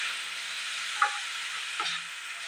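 Onions and tomatoes frying in oil give a steady, faint broadband sizzle, broken by a brief clink near the one-second mark and a soft stir scrape shortly before two seconds.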